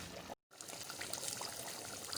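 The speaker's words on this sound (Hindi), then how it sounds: "पानी डाल दिया मैंने" Water pours into a pot of aloo gosht, a potato and meat curry, as a steady close trickle and splash that runs after a brief gap of silence near the start.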